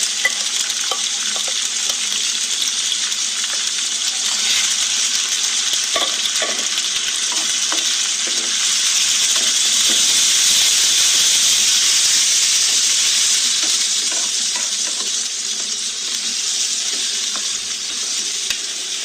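Mutton frying with browned onions for a wedding-style korma while being stirred, a loud, steady sizzle and hiss throughout with intermittent scraping clatter of the spoon, close and with no talking.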